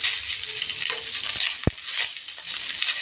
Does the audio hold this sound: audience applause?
no